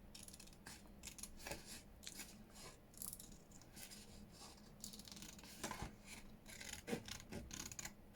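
Scissors snip and rasp through paper while making a junk journal pocket, a quiet series of close, irregular cutting and rubbing sounds with no voices.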